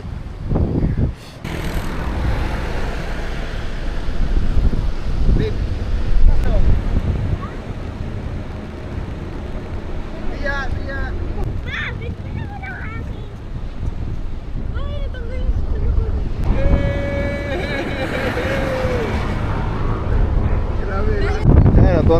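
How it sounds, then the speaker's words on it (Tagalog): Strong wind buffets a microphone at a beach campsite, a continuous loud rumbling roar with gusts and faint surf, while people talk and exclaim over it throughout. "Grabe lakas ng hangin oh."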